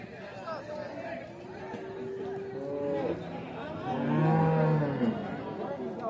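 A cow lows loudly and close at a crowded Bangladeshi cattle market where Sahiwal cattle are traded, a drawn-out moo rising near the end amid the constant chatter of many people talking.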